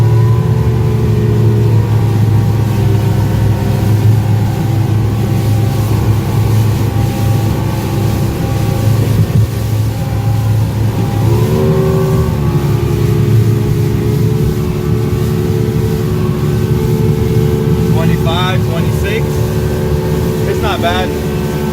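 The engine of a 1987 Steiger Craft motorboat drones loudly and steadily at wide-open throttle near 18 knots, with wind and water rush underneath and a voice speaking over it briefly.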